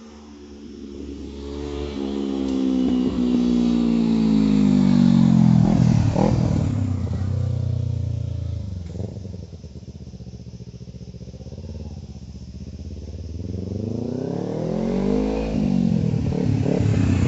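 A motorcycle climbing the Fraser's Hill mountain road near jungle, its rear brake jammed, revs loud and close, rising and falling in long engine swells with some clattering.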